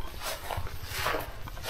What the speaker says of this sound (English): That goofy dog.